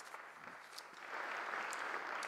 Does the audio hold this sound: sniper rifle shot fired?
no